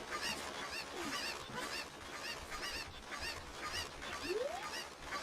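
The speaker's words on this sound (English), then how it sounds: "They call in all of their chicken friends to come and attack you." A flock of attacking cuccos (chickens) in the video game Zelda: Ocarina of Time, squawking and clucking in a dense, continuous, loud chorus, with a couple of rising squeals cutting through.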